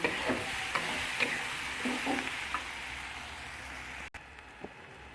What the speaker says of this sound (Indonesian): Dan panaskan minyak untuk menggoreng bumbunya.